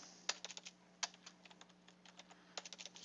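Fast typing on a computer keyboard during a BIM modeling session, with bursts of crisp key clicks separated by short pauses over a steady low hum, close and fairly quiet.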